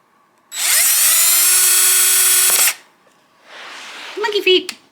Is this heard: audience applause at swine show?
no